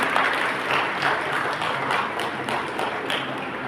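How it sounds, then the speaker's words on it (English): A school graduation audience applauds the teachers, a fairly soft, steady patter of many hands clapping at a distance, with no voices rising above it. "Give a big round of applause to all the teachers."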